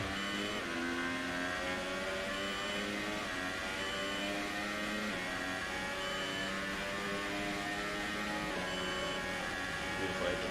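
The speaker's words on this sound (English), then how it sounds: "Beautiful engine noise off that McLaren and Honda." A steady, high-revving McLaren-Honda Formula 1 engine in a racing video game drones on continuously at a moderate distance, with occasional gear shifts and faint background noise.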